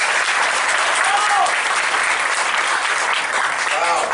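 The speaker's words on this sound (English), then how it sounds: "I'd like you to welcome, please, with a big round of applause" A ceremony crowd in Tampa marking a cruise ship's inaugural voyage to Havana gives loud, sustained applause welcoming a company president to the stage, a constant wash of clapping from start to finish.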